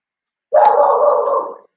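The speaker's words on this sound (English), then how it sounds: "Oh, my dog is barking." A single drawn-out dog vocalization sounds nearby in a home, a sustained bark-like howl lasting about a second before trailing off, with no talk over it.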